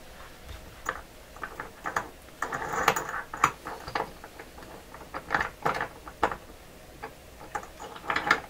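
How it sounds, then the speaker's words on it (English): A camera is fitted into a metal clamp with small clicks, taps and ratcheting scrapes in irregular bursts, close and fairly quiet. "you're watching me put a camera into a clamp there"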